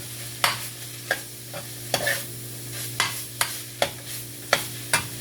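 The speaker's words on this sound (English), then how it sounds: "going to add the onion. Let that onion cook in there." Onion sizzling in grapeseed oil for turkey chili, a steady close fry broken by regular scraping strokes of a spoon stirring the pan.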